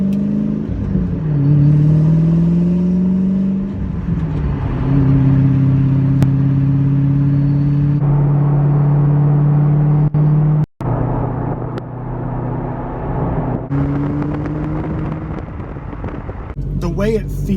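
A 2006 Ford GT Heritage Edition pulls away from takeoff, its engine note climbing in pitch, settling into a steady drone, then rising again, loud and close from inside the car.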